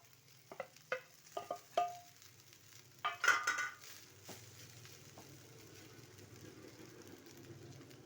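Leftover rice from the night before being stirred into a frying spiced tempering in a pan, several scraping stirs near at first, then a steady soft sizzle alone.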